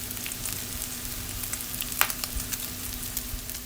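Caramelized onion sizzles softly in a pan with no butter, stirred around so there is a low continuous fry, broken by a few light scrapes and one sharper clink.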